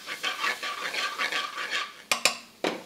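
A pan of spices and tomato puree stirred in a quick repeating rhythm of soft scraping strokes, followed by a few sharp metallic clinks of the spoon against the pan.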